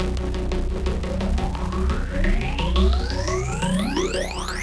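A thick synth bass tone swept by a moving phaser, whose rising harmonic bands give an upward-sounding whoosh while the pitch itself holds steady.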